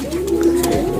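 A pigeon coos close by, a low soft throaty call that holds and wavers, with faint background noise around it.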